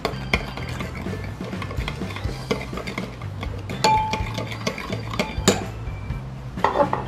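Spoon clinking and scraping around a bowl while stirring together a Thai-style sauce for a pork rice bowl with minced garlic, a steady run of close metallic taps and rattles with no talking.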